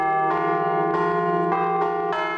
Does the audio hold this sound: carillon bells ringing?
yes